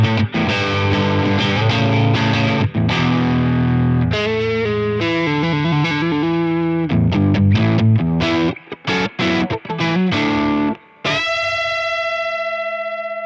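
An electric guitar runs through a blue overdrive pedal with the fat control lowered and the tone raised, playing loud distorted chords and riffs with sharp stops, ending on a sustained ringing chord.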